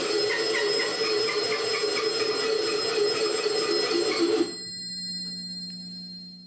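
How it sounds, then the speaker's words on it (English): Telephone bell on a station set of a 551A PBX, rung by pulling the ringing key and cranking the handle fast, rings loud and steady for over four seconds, then stops abruptly and leaves a low hum. "So while pulling forward on the ringing key and cranking the crank handle very quickly, I can generate ringing in the station 3 set."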